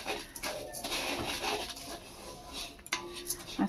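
Sugar melting in a pan is stirred with a metal spatula, giving light scraping and clinking of metal against the pan, fairly quiet and irregular over a few seconds with no talk.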